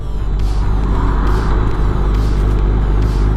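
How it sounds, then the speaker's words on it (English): 2019 Kawasaki ZX10R with velocity stacks pulling hard in third gear, a loud, dense engine roar with strong low rumble and wind noise, steady throughout without speech. "All I gotta do is a quick third gear pull on this thing right now."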